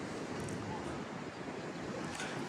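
A river flows below a wide mountain road, its steady broadband rush continuous and close throughout, blending with wind noise on the microphone.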